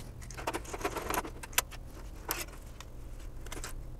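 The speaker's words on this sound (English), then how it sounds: "So let's have a quick pull of this card out and have a look." A PCI Express IDE card pulled out of a computer gives close metallic rattles, scrapes and a few sharp clicks, with a jangling, handled quality over a low background rumble.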